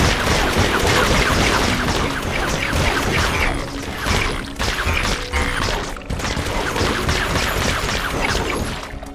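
Rapid, continuous gunfire and mechanical clatter from the Phineas and Ferb: Across the 2nd Dimension video game, loud and busy throughout with repeated shots and crashes overlapping in dense bursts.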